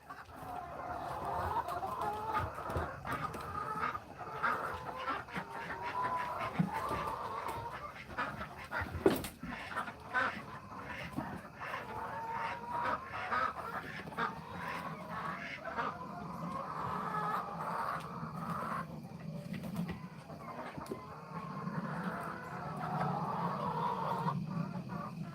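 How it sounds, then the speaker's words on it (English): Hens clucking steadily in a yard, a busy, continuous flock chatter at close range with a few sharper calls mixed in. "They're quite noisy. Hello, ladies."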